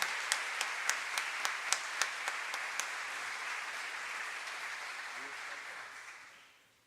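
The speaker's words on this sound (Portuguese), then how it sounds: "A salva de palmas continua ao deputado federal Jefferson Campos." Applause fills a council chamber for a federal deputy, a dense sustained clapping from the assembled crowd with a few sharper claps early on, holding steady before fading out at the end.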